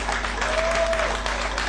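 Crowd applause after a suplex at a wrestling show, steady and sustained from a broad audience, with a faint whistle rising over the clapping.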